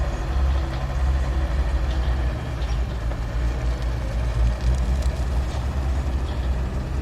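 A ten-wheeler truck's 320-horsepower engine runs up close, a loud, steady diesel rumble with a continuous low throb and no pauses.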